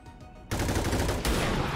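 Loud, heavy gunfire in a tactical shooter game erupts suddenly after a quieter start, with a second blast overlapping about a second later as the noise stays dense.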